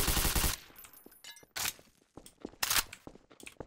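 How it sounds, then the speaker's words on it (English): Gunfire in Garry's Mod roleplay: a dense burst of rapid shots opens, then scattered sharp single and paired reports with brief gaps, loud and close, with faint clinks between. "I keep shooting people."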